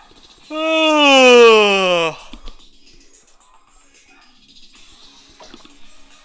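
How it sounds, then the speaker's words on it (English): Dogs barking at home, a single drawn-out howl-like bark that rises loud and clear for about a second and a half, then fades into quiet room tone. "I'm gonna go see what my dogs are barking about."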